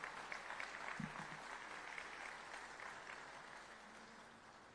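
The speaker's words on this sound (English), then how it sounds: "Join me once again in a round of applause for all the letter of commendation recipients." Applause from the audience at a Long Beach Fire Department meritorious awards ceremony, honoring letter of commendation recipients; steady, faint clapping with no voices heard.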